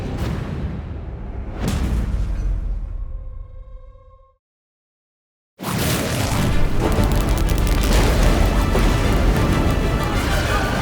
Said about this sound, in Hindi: शक्ति यंत्र से एक विस्फोट हुआ,